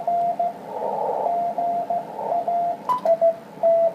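Ham radio receiver tuned to a signal, giving short steady tone pips that start and stop over a constant hiss of band noise, with a brief crackle near the end.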